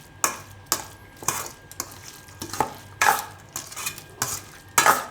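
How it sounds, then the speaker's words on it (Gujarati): Spoon stirring a carrot and radish chutney just after hot oil is poured in, giving about ten evenly spaced scraping strokes against the vessel. The strokes are close and moderately loud, and no one speaks. "તેલ ગરમા ગરમ નાખ્યું એટલે થોડીક વાર હલાવી લેવાનું"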